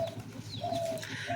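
A pigeon gives a soft, low cooing call, faint and brief, against quiet background noise.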